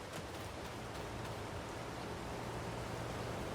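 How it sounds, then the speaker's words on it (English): Steady rain falls in the farming game Farming Simulator 22, a constant even hiss with no voices over it. "This legitimately has been an hour's worth of rain"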